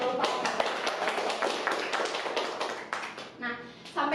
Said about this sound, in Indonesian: Silahkan kasih tepuk tangan untuk lupa